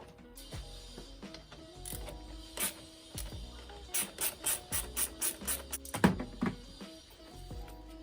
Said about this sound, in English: loosen off this Jubilee clip here